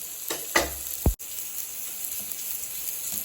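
Spices with turmeric, salt and red chili powder are sautéed in a pan, with a soft continuous sizzle broken by a couple of quick scraping stirs early on.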